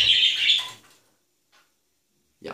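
Pet budgerigars chirping indoors, a bright burst of twittering up front that fades out, then a faint brief chirp and a short noise at the end.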